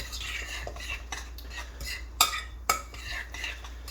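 A spoon scrapes and taps in a bowl as a crab pâté mixture with mayonnaise is stirred, with soft repeated mixing sounds and two sharper clinks against the dish over a low background hum.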